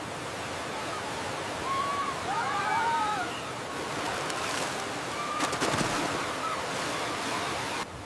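River water rushes over falls into a deep pool below, a loud, unbroken broadband roar that holds steady for several seconds, with no voices.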